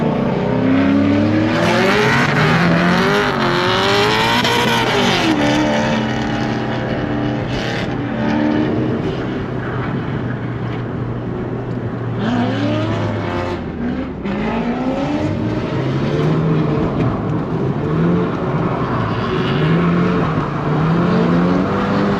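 A Nissan NISMO 270R drifts on a muddy track, its engine revving and rising loud and close with sweeping pitch changes and tire squeal, continuous and aggressive throughout.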